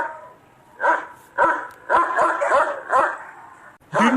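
Dogs bark at thieves outside a house at night, several loud, close barks coming in uneven bursts, with a short whimper-like yip among them.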